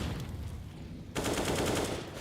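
Rapid automatic gunfire sprays in a Counter-Strike match, a dense rattling burst that grows louder and fuller midway, with steady close-range shots running through the whole moment.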